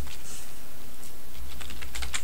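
Fingers tap quickly on a computer keyboard, close up. The keystrokes come in an uneven rattle that grows busier toward the end, with no one speaking.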